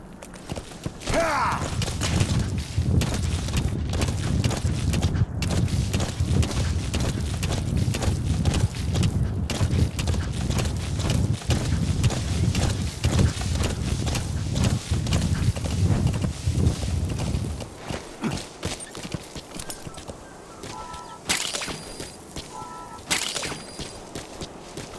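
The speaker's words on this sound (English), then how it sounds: "Your horse for traveling long distances." A horse's hooves in Metal Gear Solid V clip-clop in a steady, quick rhythm for about seventeen seconds, close and distinct, then stop, leaving a few scattered game sounds.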